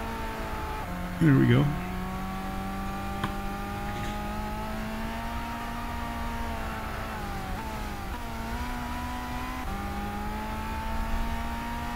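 A Colt 1.5 car engine in Gran Turismo 6 drones steadily while climbing through the gears, its pitch rising then dropping at each upshift, with a brief spoken remark early on over the engine.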